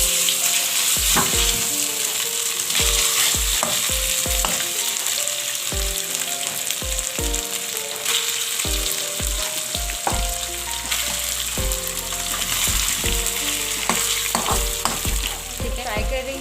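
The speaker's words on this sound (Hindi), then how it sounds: "अब हम इसको फ्राई करेंगे।" Boneless chicken pieces fry in a handi pot with a steady, loud sizzle, while stirring scrapes and taps recur throughout and soft background music plays underneath.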